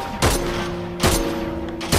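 Three sharp bursts of gunfire in a video game arrive in a regular rhythm, loud and close over a constant background hum, with no talk.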